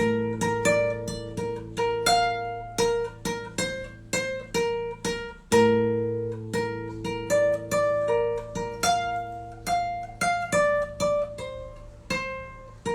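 A lone guitar picks out a childlike melody that slides into darker, eerie horror-film harmony, in a steady stream of plucked notes that ring and overlap, close and unaccompanied.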